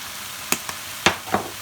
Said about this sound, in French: Et vous mélangez bien le tout, faites bien revenir.